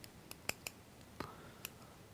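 Quiet, sharp snips and clicks of scissors trimming thread on a fly-tying wet and dry fly occur sporadically, about six light cuts close to the listener with no speech.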